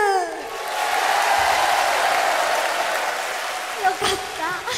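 Concert audience at a live show applauds and cheers in a loud, sustained swell, with a voice speaking briefly at the start and again near the end.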